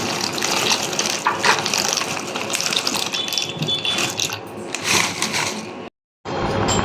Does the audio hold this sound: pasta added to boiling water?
yes